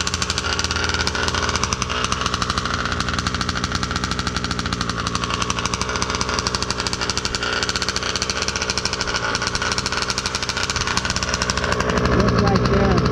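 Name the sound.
Baja 5B RC car gas engine idling after first start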